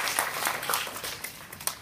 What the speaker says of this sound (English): they deserve an extra hand and a round of applause